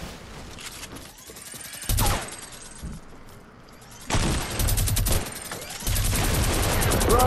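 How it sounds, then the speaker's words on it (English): Rapid minigun fire from a video game comes in several sustained bursts separated by short pauses, loud and close, with other game effects mixed in. "I'm gonna minigun them while you're on them."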